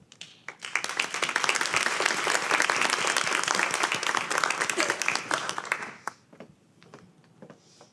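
Audience applause at a school board meeting honouring an elementary school principal, a dense wash of clapping that swells quickly, holds steady for several seconds, then fades to scattered claps near the end.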